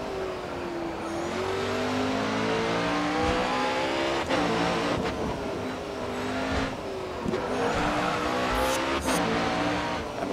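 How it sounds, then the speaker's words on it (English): A race car in Grid Autosport revs hard through its seven gears, engine pitch climbing and dropping repeatedly as it shifts, loud and continuous with occasional tyre squeal and no talking. "as this car has 7 gears, even at right in the middle of the ratio options, you're still shifting a lot of the time in this car."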